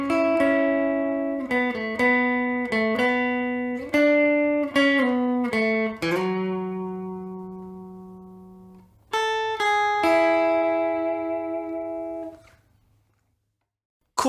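Clean electric guitar picking a melodic phrase, single notes and short chord stabs ringing clearly, alone with no other sounds, ending in a fading sustained note.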